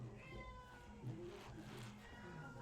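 A cat meows repeatedly in drawn-out, wavering calls, fairly faint and close, with a little quiet background noise.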